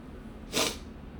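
A single sharp sniff or snort of breath through the nose, brief and close, in an otherwise quiet room.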